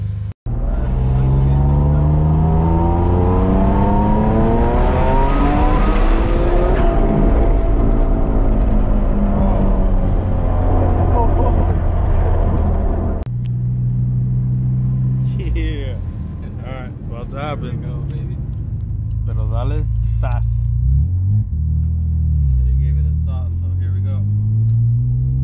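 A 1994 Mitsubishi 3000GT VR-4 fitted with MHI EVOIII 16G turbos, revving hard and loud during an all-wheel-drive dyno horsepower run. The engine sweeps up through rising harmonics, then drops and rumbles on steadily while people talk over it.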